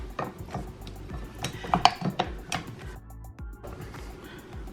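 A stand mixer starts on low, churning dinner roll dough with salt added, with rattling, clacking mechanical sounds and bumps in an uneven rhythm, then a brief quieter stretch.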